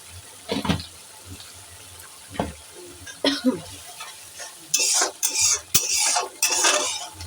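Fish curry masala sautéed in oil with salt and a little sugar, a spoon clattering and scraping the pot in irregular strokes over a low sizzle, with brighter splattering frying bursts toward the end.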